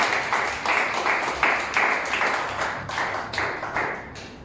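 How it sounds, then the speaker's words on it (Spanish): Church congregation applauding together, a steady continuous clatter of many hands clapping at close range, loud and dense with rhythmic pulses throughout and no talk over it. "Podemos dar una ofrenda de palmas a nuestro Dios"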